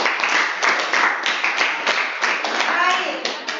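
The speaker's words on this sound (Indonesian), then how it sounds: "tepuk tangan." A school class claps hands together during a lesson, several rhythmic bursts of near, crisp clapping that run for a few seconds, with a voice mixed in.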